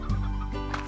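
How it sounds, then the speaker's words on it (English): Chickens in the Slime Rancher video game cluck in short bursts, one loud squawk near the start and more clucks following, fairly close, with no talk. "More chickens?"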